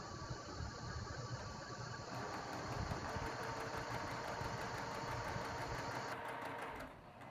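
Sewing machine stitching starched quilt block fabric pieces, a steady close mechanical whir with a fast rhythmic needle chatter that carries on evenly, then winds down at the end.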